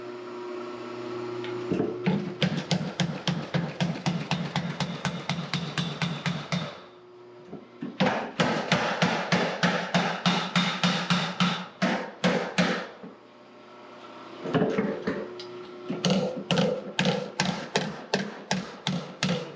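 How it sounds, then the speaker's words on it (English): A power hammer pounds metal in fast, steady rhythmic bursts while forging hammers, with short pauses between runs. The blows are loud and mechanical, with a constant motor hum underneath. "So we're going to head over to the power hammer now"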